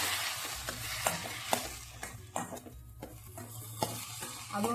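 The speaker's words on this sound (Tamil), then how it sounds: "அதுவும் லேசாக வதங்கட்டும்." Chopped tomatoes and onions sautéing in a pan for bitter gourd curry: a soft continuous sizzle broken by repeated scraping stirs of a spoon against the pan, quiet and close, with no talk.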